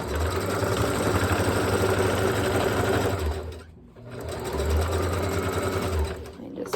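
A sewing machine stitches extra rows to secure stretchy elastic, running loud and steady with a fast mechanical whir, pausing briefly midway before starting up again for a second run.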